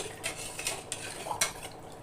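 Buttermilk being whisked together with gram flour to break up lumps, a ladle or spoon scraping and clinking against the vessel in a few short bursts, close and moderately quiet with no talking.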